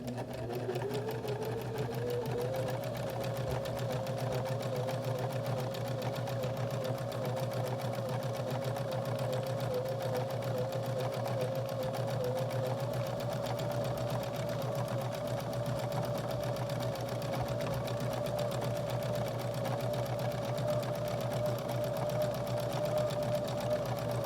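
A sewing machine stitches an upcycled shirt in one long, unbroken run, its motor whirring steadily at an even, rising pitch at close range with no talking.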